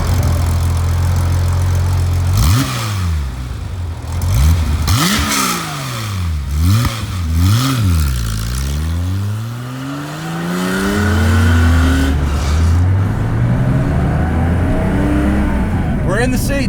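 A Porsche 911 Safari-style build driven through city streets, its engine revving up and down repeatedly in rising and falling sweeps, loud and close, with gear changes between pulls and a steadier cruise near the end.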